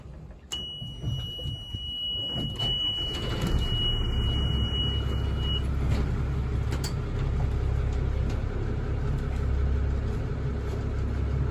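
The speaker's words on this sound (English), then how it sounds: "Malcolm is just preparing to start the engine" A boat engine starts on a light-breeze day as the craft prepares to leave a marina at Great Guana Cay, Bahamas: a steady electronic beep sounds first, then a deep rumble builds into a loud, continuous idle with no talk.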